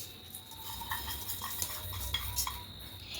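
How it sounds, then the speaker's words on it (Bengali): Grated coconut and sugar being mashed together in a wok: faint, soft scraping with a few light clinks against the metal in a quiet room. "এবার খুব ভালো করে এটা মাখিয়ে নিতে হবে ঠিক এইভাবে চটকে মাখাতে হবে"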